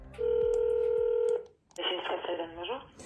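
DTMF telephone dialing tones for a call to DHL Express: a steady tone held for about a second, a short pause, then a ringback-like burst with a voice starting faintly at the end.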